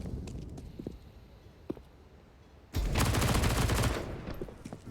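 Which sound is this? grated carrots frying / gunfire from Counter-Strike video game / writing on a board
gunfire from Counter-Strike video game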